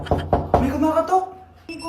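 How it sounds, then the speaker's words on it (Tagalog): Three sharp knocks on a door in quick succession, loud and close, followed by a short tonal ring-out and a later clipped sound in a quiet room. "May kumakatok."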